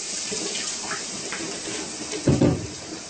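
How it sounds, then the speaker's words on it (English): A little water is poured into a pan during cooking, a short splash and gurgle near the end over steady background noise, with no talking. "And put in a little water, right?"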